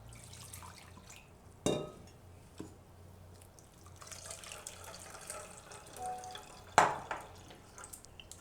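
Amla juice is strained and pressed through a sieve: faint liquid trickling and dripping with a few sharp knocks against a vessel, quiet and close.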